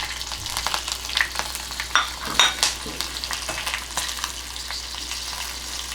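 Red and green chillies and curry leaves frying in oil over a low flame, a soft steady sizzle with a few stirring scrapes and clinks, close by and without speech.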